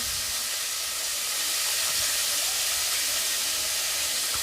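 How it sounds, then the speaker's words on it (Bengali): Chopped bitter gourd fries in a wok for sukta, giving off a dense, even hiss of sizzling oil that holds steady and close throughout, with no talking. "উচ্ছে কাটাগুলোকে একটু ভেজে নেবো মিডিয়ামভাবে একটু"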